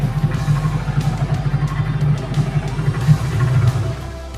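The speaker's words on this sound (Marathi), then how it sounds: "बोटमधून आम्ही चाललो फिश फिडिंगसाठी." Boat motor droning steadily on the way to fish and turtle feeding in Fiji, a loud continuous low rumble with wind-like noise throughout.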